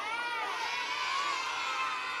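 A live audience cheers and shouts, with many high voices, children among them, blending into a continuous wash of whoops that holds steady for a couple of seconds.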